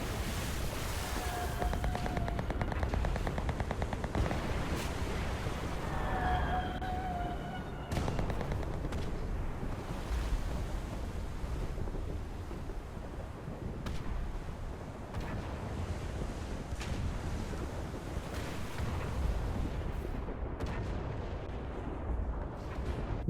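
Naval guns fire in the Foxhole video game during a large sea battle, with heavy booming blasts and rumbling over constant wind and surf noise, the loudest shots bunched early on.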